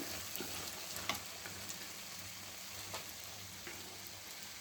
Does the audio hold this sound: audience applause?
no